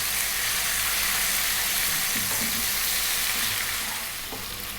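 Fresh whole chilies sizzle steadily in a hot pan of oil while lentil dal is being made, a continuous close frying crackle with a few faint clinks and no voices.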